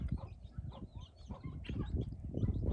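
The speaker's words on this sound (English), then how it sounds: "Look at the rooster and the turkey going at it." A rooster and a turkey scuffle in a farmyard courtyard, giving bursts of clucking and squawking with rustling, flapping-like scrapes, fairly close and continuous with no talk over it.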